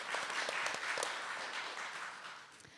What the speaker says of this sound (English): Please may we have a round of applause.